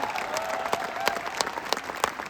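An audience at a direct-selling company gathering applauds company leaders, with a brief burst of many hands clapping, moderately faint with distinct sharp claps standing out.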